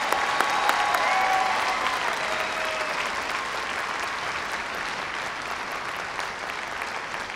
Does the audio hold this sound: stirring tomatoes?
no